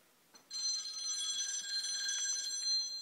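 A telephone rings with a bright, steady electronic trill that starts abruptly and continues without pause, clear and close in a quiet room.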